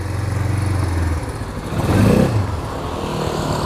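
A Hammer Pro 200 ATV with a CVT automatic runs nearby in mud-riding conditions, its engine droning steadily with a brief swell in revs partway through.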